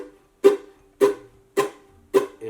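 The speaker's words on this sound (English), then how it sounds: "basically chucking is you're playing the strings, you're strumming down," Four evenly spaced percussive strums on a ukulele, each a short bright burst with a sustained note ringing between, played down-strum style with palm-muted chucks in a tutorial pattern; close and clear, no talking.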